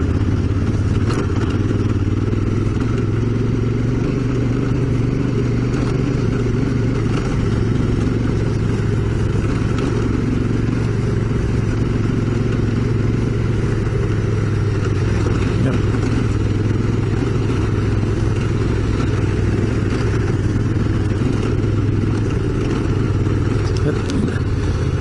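A Yamaha T7 adventure motorcycle rides along a freshly graded dirt road with a steady, loud engine drone, rumbling tyres and wind noise that never let up.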